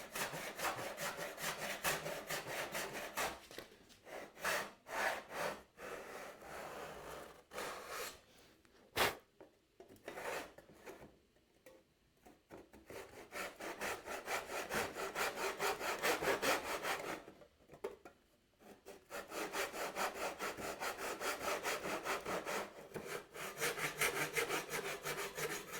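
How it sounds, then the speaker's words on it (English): A hand saw cuts down a pencil line on the edge of a wooden board for a sliding dovetail joint, with steady rapid back-and-forth strokes, a few brief pauses and restarts, close up and moderately quiet. "And I'm sawing down on my pencil line on the edge."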